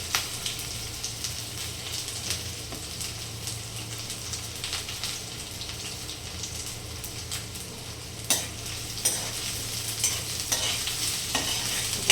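Cumin, curry leaves, onion, garlic and beans sizzle steadily in a hot pan for moth bean bhaji, with scraping stirs and clinks rising near the end, close up and continuous.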